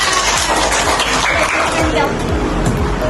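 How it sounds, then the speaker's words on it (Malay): A school class clapping their hands in praise, a continuous loud patter of many small hands with children's voices mixed in. "Tepuk tangan"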